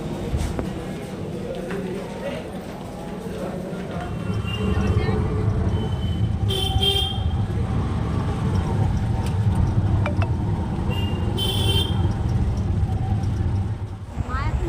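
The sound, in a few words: auto rickshaw ride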